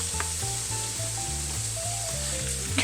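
Peppers, onions and garlic sizzle steadily in a small sauté pan, a continuous close frying hiss with a faint low hum underneath and no talking.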